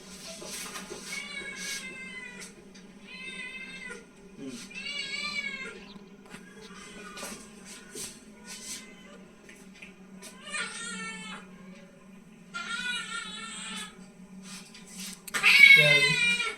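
A cat that has just been given injections cries out repeatedly in loud, wavering meows and yowls, with short pauses between calls over a constant low hum and some quiet voices in the background.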